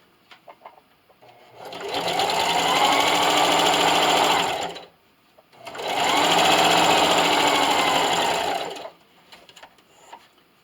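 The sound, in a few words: sewing machine stitching a diagonal line on a canning mitt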